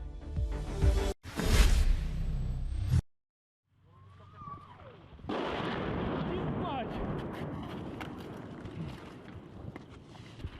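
Shelling in the Ukrainian port city of Kherson: a sharp blast-like burst and rumbling roar, then after a brief silence a broad, sustained noisy wash with faint distant crackles and thuds, loud and outdoors.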